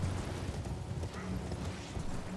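Horse hooves galloping in the Elden Ring video game, a steady rumble of thudding footfalls under a dense wash of wind and game ambience, continuous and fairly loud throughout.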